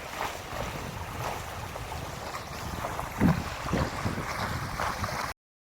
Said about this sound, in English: sailing vessel Pegasus out sailing on the Northeast River down at Chesapeake Bay